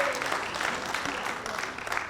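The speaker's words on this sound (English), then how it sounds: "Now I see this a clapping audience." An audience at a school district convocation claps steadily, a dense close wash of applause that holds evenly throughout.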